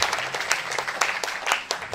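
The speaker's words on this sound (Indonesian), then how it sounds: "Boleh dong sekali lagi tepuk tangan buat kakak kita Kaila" Steady applause from the audience for Kaila at a modern Islamic boarding school's tenth anniversary celebration, a lively patter of many hands continuing throughout at close range.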